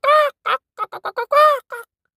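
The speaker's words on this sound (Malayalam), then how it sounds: "കോഴി കരച്ചിൽ തുടങ്ങിയോ" A chicken calls in a quick series: a long harmonic crow-like cry, a short squawk, several brief clucks, then another long cry and a final short cluck, close and fairly loud with no talking.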